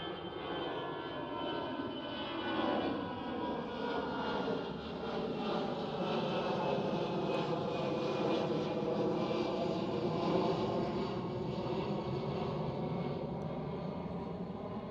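An EasyJet airliner passes at Schiphol airport near Amsterdam, its engines a sustained, loud roar that holds steady for the whole stretch, with no voices.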